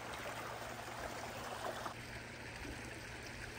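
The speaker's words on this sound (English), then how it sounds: "Nice little creek here." A small creek flows in a quiet outdoor spot, giving a soft, steady trickle and wash of water, faint and continuous with a slight drop in level midway.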